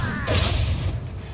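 A Confringo fire spell blasts in Hogwarts Legacy: a loud, close burst with a whooshing rush and a heavy thud, then a brief rumble that fades, ending with a faint sharp crack.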